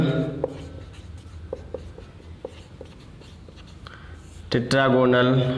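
Chalk taps and scratches on a board during a class 12 chemistry lecture on solid state, a series of short close strokes at an irregular pace, followed by a voice speaking.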